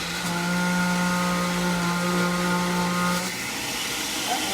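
Loud motor whine from a countertop blender running hard, blending a summer treat; the steady tonal drone holds for about three seconds, then drops in pitch as the motor winds down.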